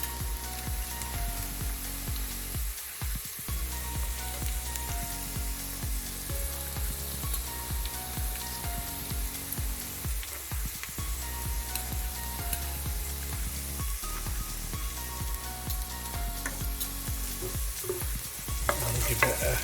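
Garlic and ginger fry loudly in a pan for a takeaway-style chicken madras, a continuous close sizzle broken by repeated scraping stirs of a utensil against the pan.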